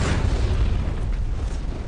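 A deep, rumbling explosion from a film set's special effects roars continuously, heavy low booming with a broad wash of noise, loud and close throughout.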